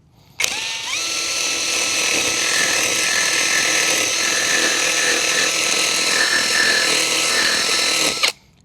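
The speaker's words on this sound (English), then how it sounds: "So I'm gonna use the drill with a sanding rock right here." A power drill fitted with a sanding stone grinds around a broken pipe to smooth it and reduce its size, a loud steady high whine that starts abruptly, holds constant for about eight seconds, then cuts off.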